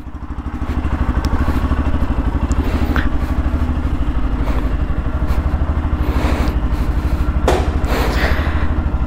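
A motorcycle named Avira idles steadily and close by at the start of a monsoon ride, with an even low engine throb and a few light clatters and knocks on top.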